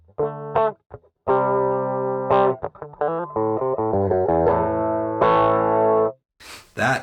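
Electric guitar through a Sonicake Wave Crush pedal on its radio setting, a thin, distorted, lo-fi tone playing short chords and a quick melodic run with gaps between phrases, close and clear, ending in a burst of noise.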